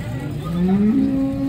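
A single long, loud moo from a Holstein Friesian cow rises in pitch and holds steady, close by, with no talking.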